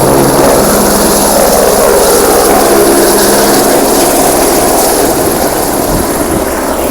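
A helicopter on joy rides at Tiptur roars very loud and close, its engine and rotor wash producing a steady broadband whooshing drone with a faint beating pulse, no talk over it.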